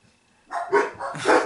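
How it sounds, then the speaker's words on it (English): Dogs bark in a short indoor burst, two loud close yaps following a quiet moment, with no talking over them. "there's my dogs."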